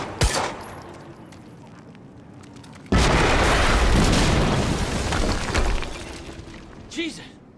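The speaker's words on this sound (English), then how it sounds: "we just heard an explosion near the harvesting perimeter" Loud, close explosion in the video game Quantum Break, a sudden blast that bursts in and rumbles on for several seconds before fading, after an earlier sharp crack.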